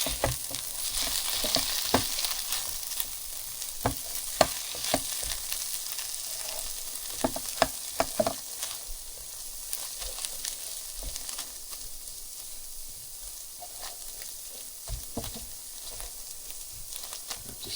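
Onions, jalapeños and tomatoes fry in a pan with a steady, close sizzle, while a utensil stirs through them, its scrapes and clicks scattered irregularly over the crackle.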